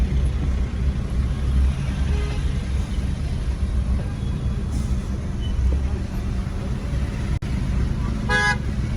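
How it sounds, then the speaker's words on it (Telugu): Dense road traffic idles and rumbles in a jam near a temple during Sankranti festivities in the Godavari region, with a short car horn toot and a brighter honk near the end over the steady engine drone. "మొత్తం జామ్ అయింది చూడండి ఎంత ట్రాఫిక్ ఉంది ఇక్కడ"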